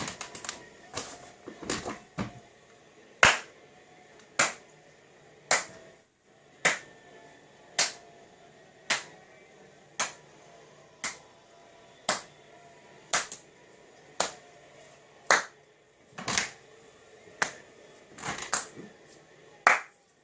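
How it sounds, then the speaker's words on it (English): Someone stands and claps slowly, one sharp clap at a time, about twenty in a steady rhythm roughly a second apart, with a few quick doubled claps near the end, close and alone with no talk. "I'm always got to stand up and give them a round of applause"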